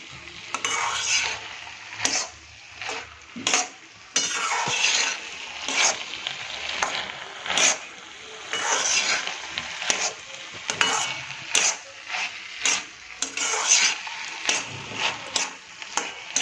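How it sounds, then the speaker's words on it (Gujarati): Pearl millet roasting in ghee on low heat, a steady close sizzle overlaid by repeated scraping strokes of a spoon stirring against the pan, with no talking. "ધીમા તાપે આપણે ભેટકાને શેકીએ છીએ એ રીતે આપણે બાજરીને પણ આ રીતે ઘી સાથે શેકવાની છે"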